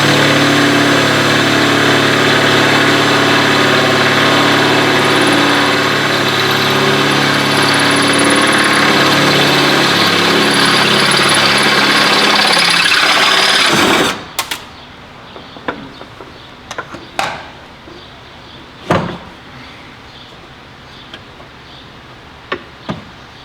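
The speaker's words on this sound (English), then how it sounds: "I need to drill out the first rivet a little better" A drill grinds out a rivet on the left front window regulator of a 1997 Ford Crown Victoria LX, a loud steady whirring for about fourteen seconds, then scattered clicks and knocks.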